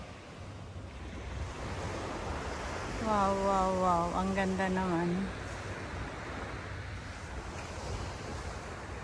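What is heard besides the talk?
sea waves on the beach at Cheung Chau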